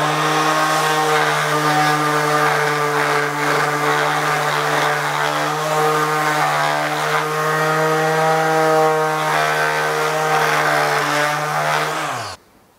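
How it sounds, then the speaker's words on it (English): An electric half sheet sander sanding wood hums with a steady, loud buzzing drone throughout, then switches off abruptly at the end. "Moving on to the half sheet sander."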